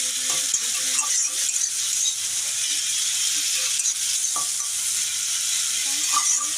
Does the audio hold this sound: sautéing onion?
yes